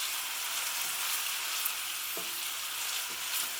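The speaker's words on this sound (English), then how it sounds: "cumin seeds or mustard seeds, it's good to toast them before, because that really brings the flavour" Cumin or mustard seeds toasting in a hot pan for a homemade vegetable curry, giving a dense, even sizzle with a few soft clicks and taps, close and steady with no voices.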